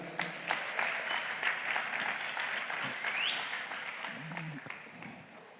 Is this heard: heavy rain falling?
no